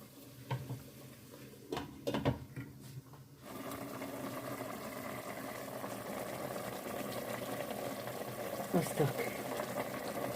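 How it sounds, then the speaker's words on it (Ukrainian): A steady bubbling and simmering of mushroom marinade with spices on the boil fills most of the clip, following a few soft clatters at the start. "Кипить булькає."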